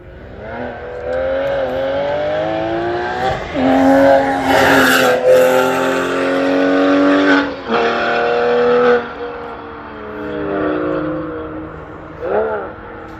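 Race car engine at Summit Point Raceway, loud and close, revving and shifting through gears with rising and falling pitch sweeps, a sharp peak mid-lap and a brief lull before the engine pulls hard again.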